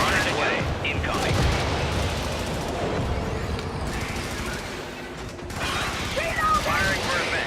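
Automated defensive gun emplacement in a video game firing in dense, continuous rattling bursts with mechanical clatter, loud and near, while a voice speaks over the shooting.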